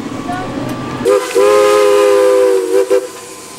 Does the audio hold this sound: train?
yes